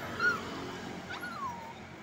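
A puppy whimpers and yips in a few thin, rising cries against steady outdoor background noise, brief and moderately close.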